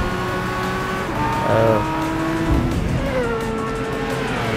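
A Lamborghini Gallardo, four-wheel drive, laps Grand Valley Speedway in Gran Turismo 5, its engine droning loud and steady with pitch sweeping up and down through gear changes and a brief tire squeal.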